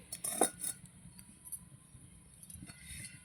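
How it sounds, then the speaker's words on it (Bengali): A wok set down on a clay stove, giving a brief metallic clink and clatter near the start, then a faint background hush, quiet and close. "কড়াই বসিয়ে দিচ্ছি"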